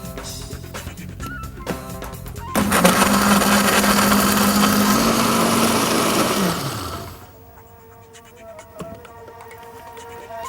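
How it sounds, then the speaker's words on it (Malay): An electric blender grinding onions and turmeric with a little water whirs loudly for several seconds, its motor pitch steady then winding down, with quieter kitchen background before and after. "Mesinkan sehingga halus."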